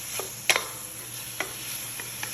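Shrimp and rice are stirred in a pan over high heat, with a soft steady sizzle under a few light scraping taps of the utensil, close and fairly quiet.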